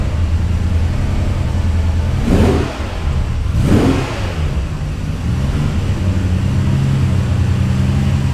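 A late-1980s or early-1990s Ferrari engine revs inside a garage, a loud steady idle rumble broken by two sharp rising blips of throttle, heard close and without voices.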